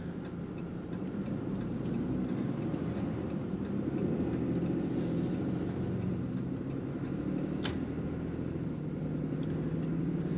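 A Ram 5500 truck accelerates onto a freeway, giving a steady, loud in-cab roar of engine and road noise that holds constant throughout, with an occasional faint tick.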